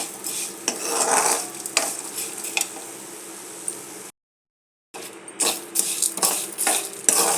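Asafoetida and spices frying in a small amount of oil in a pan, with a steady sizzle and repeated scraping, stirring clinks of a utensil against the pan, broken by a brief silence partway through.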